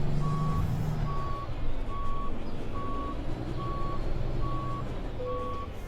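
A truck backs into a parking spot in American Truck Simulator, its reversing alarm giving seven evenly spaced beeps over a steady diesel engine drone.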